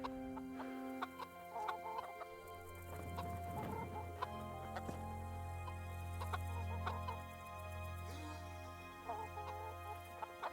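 Chickens clucking inside a coop in the medieval video game Kingdom Come: Deliverance, scattered soft clucks over a steady ambient game drone, with a few hoof-like knocks mixed in.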